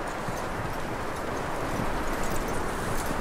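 Steady clip-clop of horse hooves in Red Dead Redemption 2 under a dense, constant wash of outdoor noise, with no pauses throughout.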